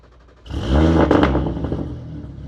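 A heavily modified 1300-horsepower Audi TT RS with its five-cylinder TFSI engine, running on ethanol, cranks and fires into a loud, rumbling idle that swells up and then settles, close by with no talk.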